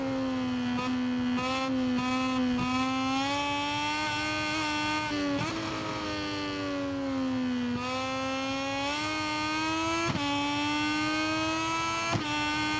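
A Moto2 racing motorcycle in the GP23 game accelerates hard from a flying start at the Austria track: a loud, steady high-pitched engine whine climbing through the revs, with several quick gear-shift breaks, close and alone.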